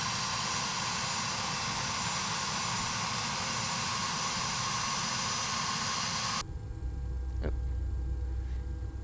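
Steady broadband roar of a CRJ-700 jet engine in the X-Plane 11 flight simulator fills the first six seconds, then drops abruptly to a quieter low hum with a faint tonal whine.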